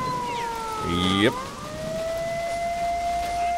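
Wailing siren from the video game S.T.A.L.K.E.R.: Shadow of Chernobyl, a loud sweeping tone that gliding down and settles into a steady drone, with a brief burst of speech and a harmonic-rich sound midway.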